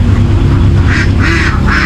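Ducks quacking in repeated bursts at a backyard farm pen, fairly close and loud, over steady low background noise.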